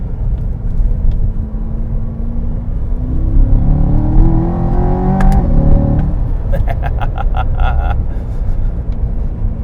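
A Chevrolet Corvette C8 Stingray convertible on a tight, curvy canyon road at night gives a steady loud engine rumble with road noise, rising and falling as it accelerates through the bends.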